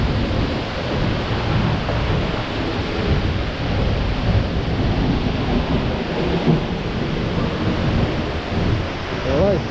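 A roaring waterfall heard from directly behind the falling water on a volcano hike, a loud, steady broadband rush that fills the whole clip without pause, thundering and dense like heavy rain.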